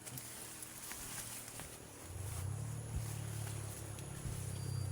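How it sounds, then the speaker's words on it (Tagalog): Motorcycles pass by on a road at night, a low engine drone that swells and holds from the middle onward, moderately near, amid faint background noise. "Mga motor pa na dumadaan."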